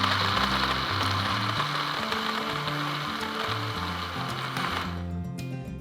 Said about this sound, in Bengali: সবগুলো উপকরণ একসাথে ব্লেন্ড করে নিব।